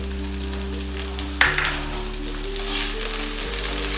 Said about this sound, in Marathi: आता ह्याला व्यवस्थित भाजून घेते.